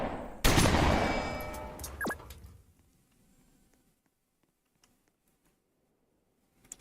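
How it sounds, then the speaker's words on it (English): Shotgun fire in the Roblox game Noobs in Combat, a loud blast followed by a decaying rumble and one quick whistling shot, then near silence with a couple of faint clicks. "Fire your shotguns."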